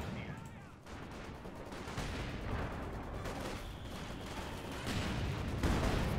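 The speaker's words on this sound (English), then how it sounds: "Just tell the sniper to open fire." Dense battle gunfire in the Company of Heroes 2 strategy game, with sniper and other weapon shots crackling as a steady barrage of overlapping reports and explosions at moderate, even loudness.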